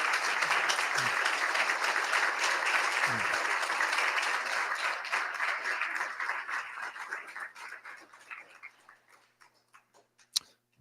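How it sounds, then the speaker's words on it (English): Applause from a memorial ceremony audience honoring armed forces veterans, steady and full at first, then thinning into scattered claps that fade out, with one sharp isolated clap near the end. "Let's give them a round of applause."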